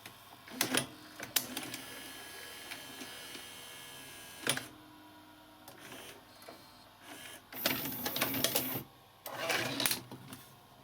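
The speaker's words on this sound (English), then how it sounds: "Yeah, that motor's a lot quieter now. That's running nicely." A repaired Ferguson Videostar 3V36 VHS recorder motor runs quietly, with a faint steady whir under clicks and brief mechanical clatters, then louder whirring bursts near the end.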